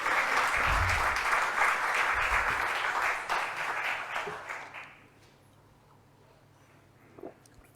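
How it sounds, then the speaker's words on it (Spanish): An audience at a seminar claps in dense sustained applause that fades out after about five seconds, leaving near-silence with one faint bump near the end. "Aplaudan nomás, pues si esto es muy lindo."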